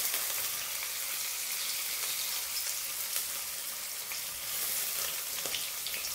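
Coconut pieces with cumin sizzling in oil in a pan for a green papaya curry: a steady, soft, continuous hiss of frying with faint stirring scrapes, alone and fairly quiet.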